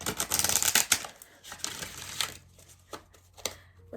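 A rapid riffle of cards being shuffled, a dense flurry of crisp flicks, then a few scattered softer taps as the cards settle.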